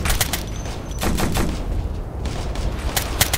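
Sustained gunfire in Operation Flashpoint: Red River rattles close and loud, with rapid bursts of rifle and machine-gun shots forming a steady fusillade and sharp individual cracks throughout.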